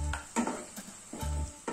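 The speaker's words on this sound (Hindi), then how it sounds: "सभी को अच्छे से मिक्स कर लेंगे।" A spoon stirring powdered spices (garam masala, coriander, cumin, Kashmiri red chilli) through taro pieces in a pan, giving a few soft scraping strokes with light metallic clinks, close and fairly quiet, with no voices.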